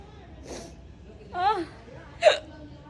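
A child hiccups three times at home, short sharp catches spaced about a second apart, close and fairly quiet, with the last two sounding louder and more voiced.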